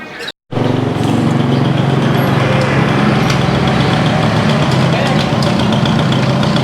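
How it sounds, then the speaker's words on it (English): A small two-stroke motorcycle engine idles steadily nearby with a buzzy low drone, while people talk over it. "It's his little 2-stroke motorcycle"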